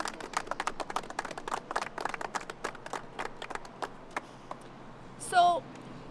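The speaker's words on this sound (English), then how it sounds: "How about a big round of applause for all of them?" An outdoor crowd at a roundabout unveiling ceremony gives a round of applause, with scattered, uneven claps that thin out toward the end before a short burst of voice.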